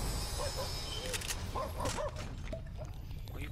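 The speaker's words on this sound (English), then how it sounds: "What are you barking at, yo?" A dog in a video game barks a few short times over dense, noisy game sound, the barks fairly faint and spaced out across the clip.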